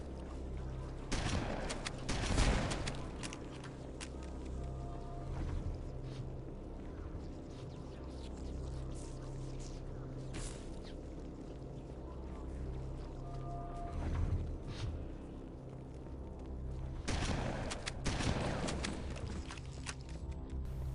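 Gunfire in the video game Halo: Combat Evolved, shooting at Flood carrier forms from above, heard as distant bursts of shots over a low, rumbling ambient drone, with louder volleys near the start and end.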